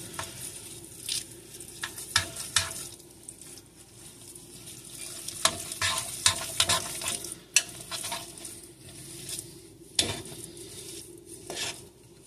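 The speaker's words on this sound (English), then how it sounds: "It's easier to just do it the old-fashioned way and just stir with a spoon." A spoon stirs carrot brownie batter in a bowl, making irregular close scraping clicks and soft wet patter in bursts over a low background hiss. Nobody talks.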